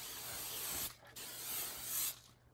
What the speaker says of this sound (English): On this plate, I like to use a spray of Aquanet.